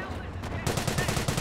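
Rapid automatic gunfire from a Panzer in the Company of Heroes battle game, a steady burst of repeated loud shots starting partway through and running to the end over constant background battle noise.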